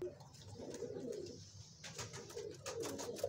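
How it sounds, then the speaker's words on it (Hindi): Pigeons of a Teddy breeder pair cooing softly and repeatedly close by, a low rolling coo with faint background noise. "बड़ा ही लाजवाब कबूतर"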